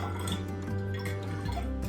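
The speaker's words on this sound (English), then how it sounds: "So I'm gonna try to divide the kefir water in each bottle little by little until it's finished." Water kefir is poured from a container into bottles, a close, continuous trickle of liquid with a rising fill tone and faint glassy clinks throughout.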